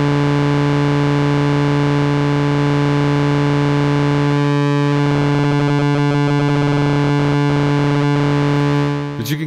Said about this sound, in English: use VCO2 to modulate the pulse width. So that's an audio range oscillator affecting the pulse width.